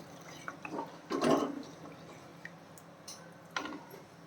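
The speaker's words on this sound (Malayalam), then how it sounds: "ഒരു രണ്ട് കപ്പ് ചൂടുവെള്ളമാണ് ചേർക്കുന്നത് കേട്ടോ" Two cups of hot water are poured into a curry gravy in a pan: a brief splashy pour, then a few small drips and trickles, all quiet and close.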